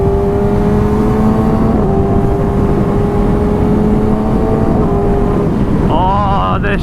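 A 2019 Yamaha R6 sport bike with upgraded cams runs loud and close under wind noise, engine droning steadily as it accelerates through several quick upshifts, with a sharp rising rev near the end.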